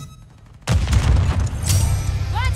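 Call of Duty Modern Warfare III multiplayer gunfire: after a quiet moment, a loud close burst of rapid automatic shots erupts and continues as sustained fire with booming low end and a brief ricochet-like whine near the end.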